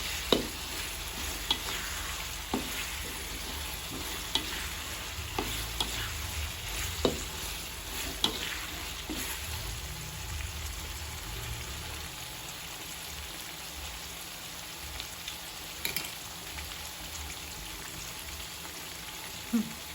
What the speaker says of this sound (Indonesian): Sambil sesekali tetap diaduk supaya nanti cabai di bawahnya tidak hangus.